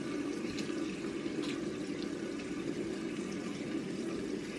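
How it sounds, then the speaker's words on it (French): Tap water runs steadily into a sink as makeup remover is rinsed off, a faint, even splashing rush with no speech. "Donc voilà, hop, on passe un coup d'eau."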